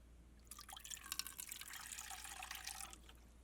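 Fresh water pours into a watercolor painter's water container for about two and a half seconds, a soft, close splashing trickle with no voices.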